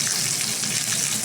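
Pangas fish fries in a pan with a steady, close crackling sizzle of hot oil, continuous and dense with no voices over it.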